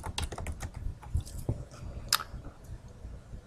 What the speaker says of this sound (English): So go ahead and type in SATC Associative and hit OK.